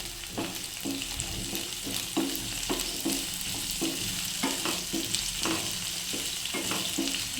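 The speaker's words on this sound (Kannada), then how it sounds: "ಆಲೂಗೆಡ್ಡೆನ ಫ್ರೈ ಮಾಡ್ಕೊಳ್ಳಿ." Potatoes and onion frying in a pan for a capsicum and potato palya: steady close-up sizzling with regular stirring scrapes throughout, loud and without talk.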